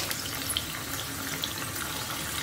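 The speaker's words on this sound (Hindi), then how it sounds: "मीडियम टू लो फ्लेम पे हमें डीप फ्राई करना है। इस तरह से डाल देंगे।" A wheat flour and potato snack deep-frying in hot oil over a medium-low flame gives a steady, dense bubbling hiss that holds evenly from start to finish, with no voices.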